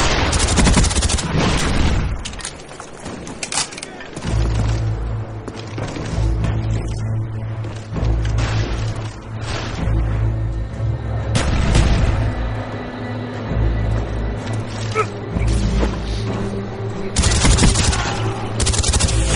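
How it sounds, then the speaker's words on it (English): Explosions and rolling booms from a napalm strike in Call of Duty Black Ops during a Search and Destroy match, loud and sustained with scattered gunfire and sharp bursts layered over the din. "Alright, so I got a napalm strike? Really?"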